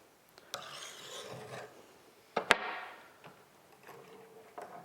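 A flat file is drawn along the rails of a chainsaw guide bar at a 90-degree angle, working away from the sprocket: a few rasping strokes close by, one sharp scrape in the middle, with quiet gaps between them.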